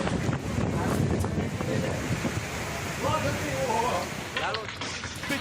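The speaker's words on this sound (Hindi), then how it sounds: "तेज हवा सब कुछ उड़ाकर ले गई।" Strong gusting wind from Cyclone Nisarga buffets the microphone outdoors, a steady loud roar with a narrator speaking over it.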